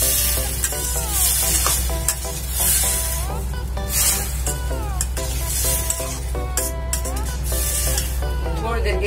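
Boiled, peeled and cut arbi (taro) stirred into sizzling masala in a pan, with a steady frying hiss and repeated scraping strokes of a spoon, close and loud, with no one speaking.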